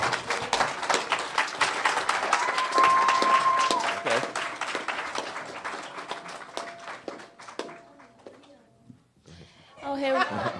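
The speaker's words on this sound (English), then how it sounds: "let me ask, these are the do's or the don'ts? These are the do's. So, okay. So, I mean, we have some don'ts. So, Let's come give on. a round of applause for our models that are going to come out" Audience applause and cheering for models at a fashion show, a dense burst of clapping that peaks then thins out, with chatter and a voice over it and a quieter tail before new noise near the end.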